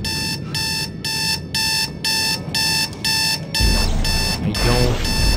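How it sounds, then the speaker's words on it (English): Alarm clock in a video game ringing in a loud, regular beeping pattern of repeated tonal bursts, with a rumbling game sound joining near the end. "I don't like that fucking alarm clock."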